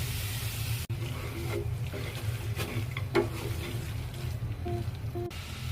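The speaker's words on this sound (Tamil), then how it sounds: "இந்த டைம்ல நம்ம எடுத்து வச்சிருக்க சிக்கன் ஆட் பண்ணிடலாம். நல்லா கலந்து விடலாம்." Chicken being stirred into oil-coated masala in a pan makes soft, quiet scraping and a faint sizzle throughout, with no voices.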